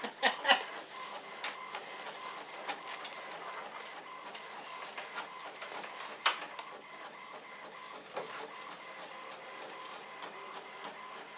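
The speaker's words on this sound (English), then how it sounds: "My printer has decided to print something." A printer runs steadily, its mechanical whirring and clicking carrying on throughout, with a few sharper clacks at the start and midway.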